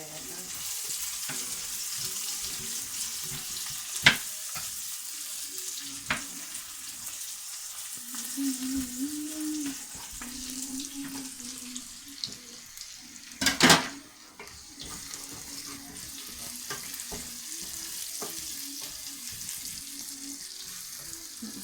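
A pot of Kenyan stew with onions and garlic browning, stirred with a steady low sizzle beneath faint scrapes and a few sharp knocks of the spoon against the pot, with a brief voice midway.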